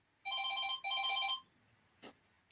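A telephone rings with two bright electronic trills in quick succession, clear and fairly close in a quiet room, followed by a faint brief click.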